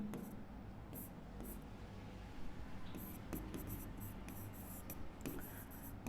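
Pen or pencil writing on paper during a Class 10 maths lesson on circles and tangents, with soft scratchy strokes coming in short bursts at close range under a low, quiet voice.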